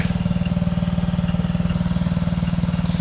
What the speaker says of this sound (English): And I'll show you that she's cold and then start her up.